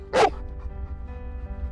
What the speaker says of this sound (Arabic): شو بقول الكلب ليش عم يعوي؟